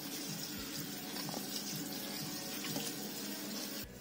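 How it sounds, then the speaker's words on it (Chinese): Tap water runs steadily into a sink over freshly picked black locust flowers being washed, a constant close splashing hiss with a brief clunk near the end and no voices. "先清洗干净"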